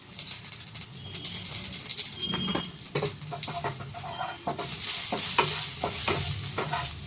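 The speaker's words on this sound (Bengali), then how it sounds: "1 চামচ রাঁধুনি ফোড়ন দিচ্ছি।" Radhuni seeds sizzling in hot oil in a kadai, a steady frying hiss with scattered pops and stirring scrapes, close and alone, with faint clucking of chickens in the background.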